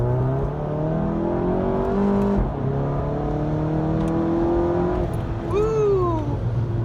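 A VW GTI MK7 with Cobb Stage 2 accelerating in DSG sport mode, heard from inside as a loud, rising engine drone through several gear changes, with a quick shift and renewed climb near the end.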